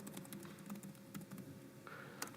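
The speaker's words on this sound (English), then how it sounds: "I'm typing it wrong." Computer keyboard typing during a live software demonstration, a quiet, irregular patter of key taps over a low room hum, with a brief louder burst of keystrokes near the end.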